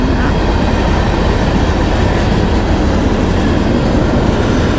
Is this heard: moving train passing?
yes